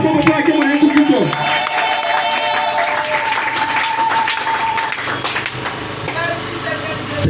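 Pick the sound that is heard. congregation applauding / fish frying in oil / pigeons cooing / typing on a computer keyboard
congregation applauding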